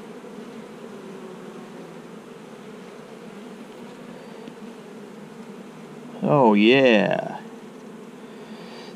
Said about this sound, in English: there's a lot of nurse bees there